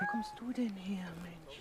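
A farm cat meows in a short drawn-out wail at a wartime Christmas truce on the front, close by, while someone speaks German over it.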